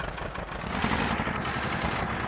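A tractor engine runs steadily in the Indian Tractor Simulator 3D game, a continuous mid-to-low idling drone with constant loudness and no talk over it.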